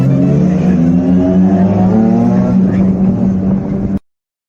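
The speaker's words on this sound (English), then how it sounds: "Beautiful engine noises there, and none of our cars in sight." A car engine revs hard for a racing competition intro, a loud, close, sustained rising roar with steady harmonic tones that cuts off abruptly after about four seconds.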